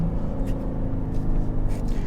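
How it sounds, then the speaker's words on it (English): A Toyota Land Cruiser J300 with a V6 diesel accelerates in sport mode, a steady, close, low engine drone rising slightly in pitch without pause for the whole stretch. "the car picks up pace very nicely in sport mode"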